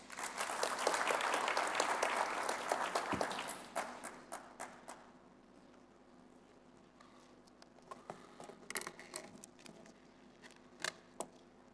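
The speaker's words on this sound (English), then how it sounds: "Give him a round of applause, please." Audience applause fills a conference hall, loud and sustained for about four seconds before breaking into scattered, fading claps and small room noises.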